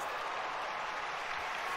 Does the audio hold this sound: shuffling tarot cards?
no